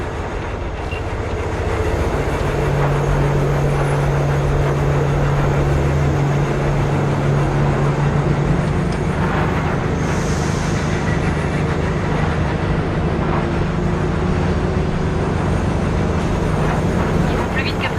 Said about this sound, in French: Faut détacher un wagon, le train prendra de la vitesse.